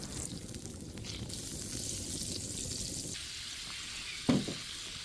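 Margarine melts and sizzles steadily in a pan at the start of a creamy chicken sopas, a dense, even hiss that softens partway through, followed by a single brief clunk near the end.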